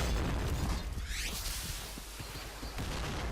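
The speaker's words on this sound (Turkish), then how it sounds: "Şuraya bir bomba. Sis bombası falan." A smoke grenade thrown in the shooter game PointBlank, a loud burst with a rushing whoosh and sweeping hiss, followed by scattered clicks and pops from gameplay in a noisy, continuous mix.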